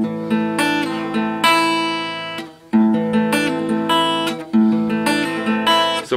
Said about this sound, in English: There's a pull-off. It'll sound like this.